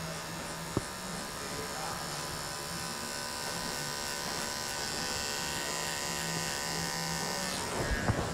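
Cordless electric hair clippers buzz steadily and close up while fading a haircut in a barbershop, a constant mid-pitched hum with a faint click near the start and light handling noise at the end.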